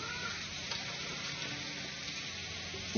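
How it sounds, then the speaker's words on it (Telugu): Curry leaves sizzle and fry steadily in hot oil in a pan for a Telugu prawn and brinjal curry, a dense continuous crackle with no talk. "దీనిలోనే కాస్తంత కరివేపాకు వేసుకోవాలి ఇవన్నీ చక్కగా వేయించుకోవాలి"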